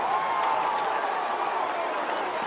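A hurling crowd at a 2025 Munster championship game, Limerick against Waterford, roars steadily for a Limerick score by Gearóid Hegarty, a dense, sustained wall of cheering and applause with no break.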